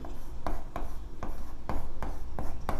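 Writing on a board during a maths lesson, a series of quick scratchy strokes tapping and rubbing in an uneven rhythm, close and fairly loud with no talking.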